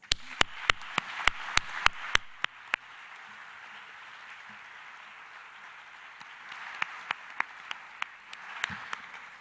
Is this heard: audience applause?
yes